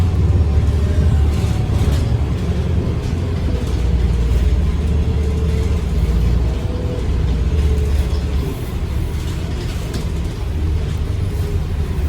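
Steady low engine rumble inside a moving city public bus, loud and continuous with faint rattling mechanical clicks, no talking.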